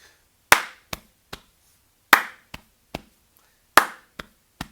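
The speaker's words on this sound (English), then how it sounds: "focus on getting that clap together" A class of young children claps together in a rhythm warm-up, in three repeated groups of one loud clap followed by two softer ones. The claps are crisp and close in a quiet room, with no talking.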